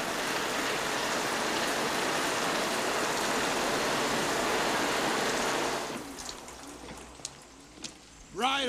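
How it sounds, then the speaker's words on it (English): Heavy pouring rain from a theme park ride effect in Back to the Future: The Ride hisses loudly and steadily, then cuts off abruptly, leaving quieter ambience with a few taps and a voice speaking at the end. "Right now, it's pouring rain."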